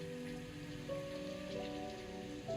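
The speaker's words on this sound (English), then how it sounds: "It's raining." Rain falls steadily as a constant, even hiss, with sustained musical tones playing underneath throughout.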